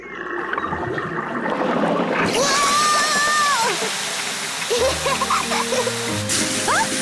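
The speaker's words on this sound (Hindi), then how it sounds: "पेपा ने पाइप पकड़ी और डैडी पिग ने पानी शुरू कर दिया" Water gushes and sprays from a garden hose in a steady hissing rush around a car being washed, with cartoon character voices and squeals heard over the spray.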